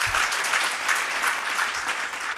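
An audience claps steadily to welcome a guest at an education conclave in Bihar, a dense, even wash of applause.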